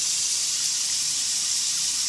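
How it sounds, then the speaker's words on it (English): Kitchen faucet over an undermount sink runs at strong pressure, giving a steady, even hiss of flowing water that holds constant throughout with no voices. "look at that water pressure."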